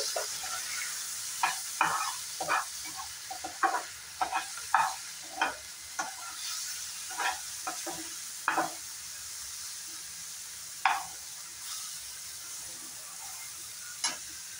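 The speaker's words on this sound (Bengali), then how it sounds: "পেঁয়াজ আর টমেটোটা ফ্রাই করে নিলাম।" Onion and tomato fry in a pan with cumin powder, a quiet sizzle broken by frequent short stirring scrapes and taps, spaced irregularly through the clip.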